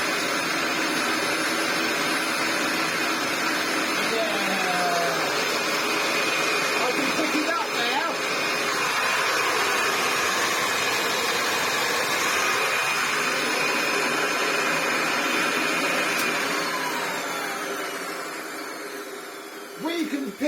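A restored Hoover 725 vacuum cleaner runs steadily without picking up dirt, its motor giving a loud continuous whine and airy roar that tapers slightly near the end.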